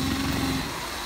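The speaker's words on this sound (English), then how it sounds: "So we'll just drill the last bit out." A power drill bores through the cam lock of a post box, giving a brief, steady, close-up mechanical whine.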